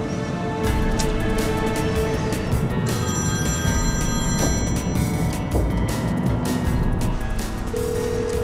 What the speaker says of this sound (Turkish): Aç şu telefonu.